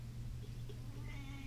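Cat meowing in an unhappy, complaining way, a faint drawn-out cry over a steady low background hum, close but quiet.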